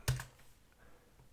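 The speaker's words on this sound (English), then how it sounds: "I'm just going to type in IRFZ44N, that's the name of the transistor, and the word data sheet" A few quick keystrokes on a computer keyboard while a transistor part number is entered into a browser search box, beginning with one sharp close click and trailing into faint room noise.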